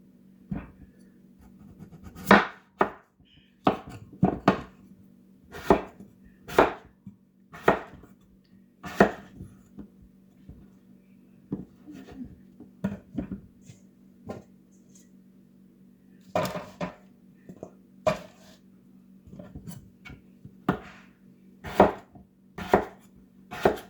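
Potatoes are chopped with a knife on a board in a steady run of sharp, close knocks, irregular in rhythm with short pauses, against a quiet background.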